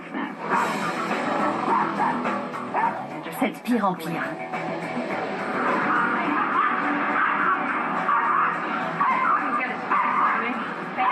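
Stanley, a dog, barks and yips in short bursts at close range, the barking mixed in with people talking over it throughout.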